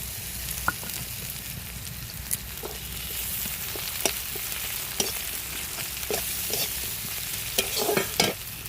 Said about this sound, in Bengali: রসুনটা হালকা ভাজা হয়ে গেলে এর মধ্যে দেবো পেঁয়াজ কুচি